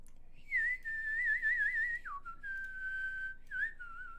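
A single person whistles a wavering, sustained tune, sliding down in pitch and then holding steady tones, clear and close with nothing else heard.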